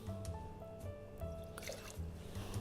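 Yellow Rose Outlaw Bourbon pours into a cocktail measure, a soft liquid trickle and drip over a low background hum.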